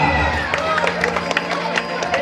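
Audience at a Bhojpuri devotional stage show in Patna clapping and cheering: a dense, sustained patter of applause with scattered sharper claps, mixed with crowd noise and a steady musical drone underneath.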